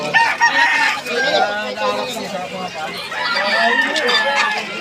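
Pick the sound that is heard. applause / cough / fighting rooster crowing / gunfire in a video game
fighting rooster crowing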